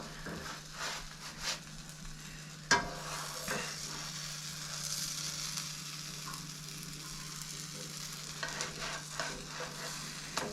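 A quesadilla frying in a hot pan, a quiet steady sizzle over a low electrical hum, broken by one sharp clack and a few soft scraping sounds.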